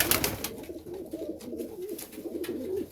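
Fighting-breed pigeons in a loft cooing softly and repeatedly, close by, with some rustling and faint background noise.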